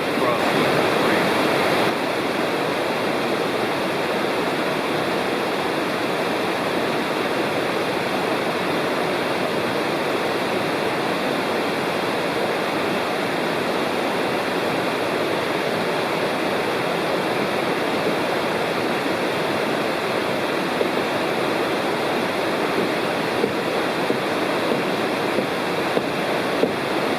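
The North Fork of Citico Creek in Cherokee National Forest rushes beneath a bridge, a steady broadband wash of flowing water, constant and fairly close throughout.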